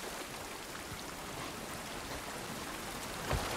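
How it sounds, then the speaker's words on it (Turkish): Steady rain pours outdoors in The Last of Us Part 1, a dense, even hiss of drops on surfaces holding throughout at moderate volume, with a faint thump near the end. "Yağmur yağması hiç iyi olmadı."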